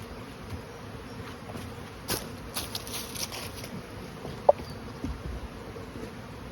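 Honey bees buzz faintly around a hive being moved during a National to Langstroth changeover, a soft steady drone with a few light knocks and taps nearby.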